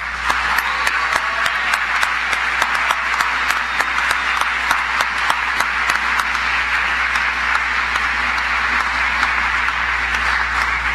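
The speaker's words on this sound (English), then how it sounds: "Let's give them a round of applause." Sustained audience applause at a Penn State Wilkes-Barre spring commencement ceremony, a dense, steady wash of many hands clapping for the standing faculty, with a few sharper individual claps standing out throughout.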